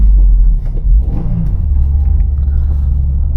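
A Subaru WRX pulls hard in short first gear, its engine rumbling low and loud from inside the car, a steady close drone without speech.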